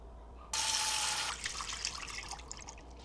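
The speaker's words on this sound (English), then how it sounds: "we're gonna cover them with about 2 to 3 inches of cold water." Cold water gushes steadily into a crock pot over ham bones for homemade bone broth, a loud burst lasting under a second before trailing off into scattered drips and splashes.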